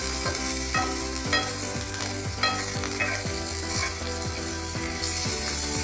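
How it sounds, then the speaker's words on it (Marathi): Pea curry stirred in a pan with chopped tomatoes, curry leaves and coriander: a steady sizzle of frying runs under repeated scraping strokes of a spoon, close and even, with no talking. "मग त्यामध्ये कापलेले टमाटे कढीपत्ता कोथिंबीर टाकून पूर्णपणे मिक्स करून घ्या"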